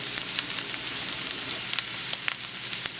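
Carrots browning in a hot pan give a steady close sizzle, scattered with small crisp pops and crackles throughout, with no talking.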